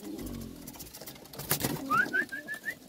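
Pigeons in a loft coo in soft low bursts, then a brief rustle and a short run of higher whistly calls, close by and otherwise without voices.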